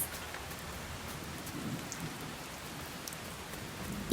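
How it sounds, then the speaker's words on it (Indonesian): Summer rain falls steadily on the high Sanjiangyuan plateau, a soft, even patter of drops with faint distant rumbles, heard alone without voices. "Saat musim panas di Sanjiangyuan, hujan kerap kali turun."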